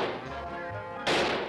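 Gunfire in a French comedy film: a dull muffled blast followed about a second later by a sharp, louder crack, both close, with no talk over them.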